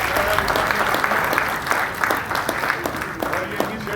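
Audience at an award ceremony at the Arts Council of Pakistan in Karachi clapping, a loud, crisp patter of many hands with sharper individual claps standing out, while a voice talks over it.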